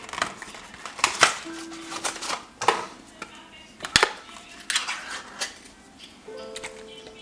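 Pasta is stirred together with canned tomato tuna in a pot, producing intermittent clattering, scraping and utensil knocks in uneven bursts, close and moderately loud.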